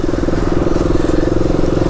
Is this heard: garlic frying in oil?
no